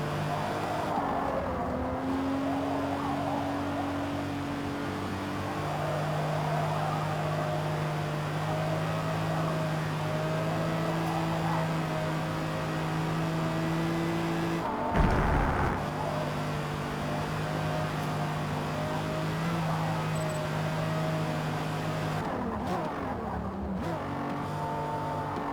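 Several race cars in Forza Motorsport lap a circuit, their engines droning steadily with sustained, shifting pitch tones as they accelerate and hold speed, with a brief burst of noise midway.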